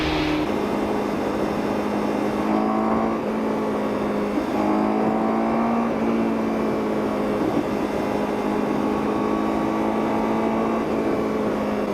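A Honda CBR1000RR-R Fireblade SP sport motorcycle engine drones loudly and continuously in second gear on a highway, its pitch shifting as it accelerates at speed, with no voices.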